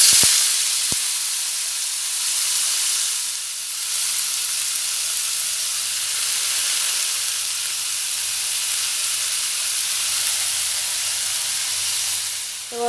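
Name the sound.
thin sliced potatoes frying in oil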